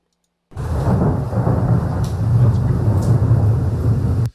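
A thunder sound effect: a loud, continuous rumbling roll with rain-like hiss that begins abruptly and cuts off cleanly after about four seconds, with no voices.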